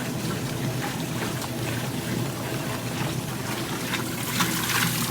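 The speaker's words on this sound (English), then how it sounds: "Over here in the Maytag, we are building up some suds just because it's really throwing the water and clothes around in there." A Maytag washing machine churns water and clothes into suds, a steady, close sloshing wash that runs continuously with no talk over it.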